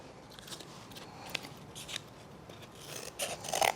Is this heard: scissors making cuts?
yes